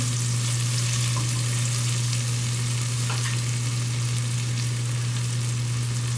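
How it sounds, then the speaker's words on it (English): Thinly sliced onions frying in a pan, about two cups dropped into frothy fat, making a loud, continuous, even sizzle close up under a steady low hum, with no voices. "we can add our onions"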